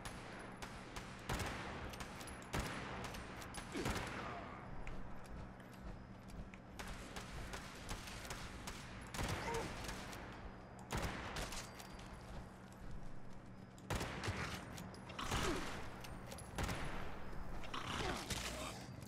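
Rapid gunfire bursts from shooting super mutants in Fallout 76, repeated sharp shots in clusters across the stretch over steady game ambience, with some faint talk.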